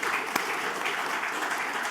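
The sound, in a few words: audience applause at a talk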